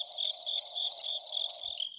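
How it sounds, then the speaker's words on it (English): Cricket chirping sound effect, a steady high-pitched trill pulsing continuously and fairly loud for about two seconds, with no talk over it. "Crickets."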